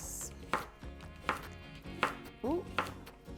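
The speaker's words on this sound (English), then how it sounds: "you're going to start by chopping your leek into nice big even chunks" A knife chops a leek into big even chunks on a cutting board, giving four distinct, evenly spaced thuds over about three seconds, close and fairly quiet, with a faint voice briefly between cuts.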